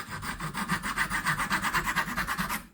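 Gordon multi-tool saw cutting through a wooden dowel, a fast, even back-and-forth rasping rhythm that is close and steady until the cut ends abruptly.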